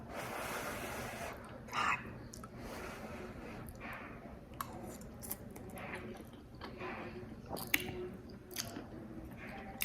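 Close, soft chewing of a bite of Texas toast garlic bread, with wet squishy crunches and occasional breaths repeating at an irregular pace over a quiet background.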